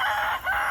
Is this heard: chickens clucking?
yes